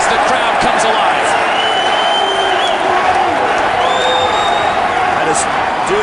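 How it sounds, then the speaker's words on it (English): Arena crowd at an MMA bout between Pettis and Henderson roars in a steady, dense wash that swells as the fighters grapple, with a commentator talking over it throughout. "Ben Henderson looking for a way as the crowd comes alive."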